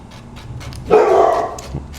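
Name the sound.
dog barking in a taxidermy workshop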